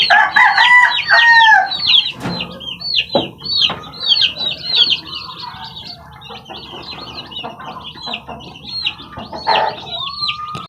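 Chickens cluck and squawk up close in a busy chorus inside a breeding coop with hens, with a rooster crowing and occasional wing flaps and knocks.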